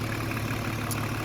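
A 1997 BMW 325 TDS diesel engine idles in a steady, low, even rumble, close and fairly quiet, with no voices over it.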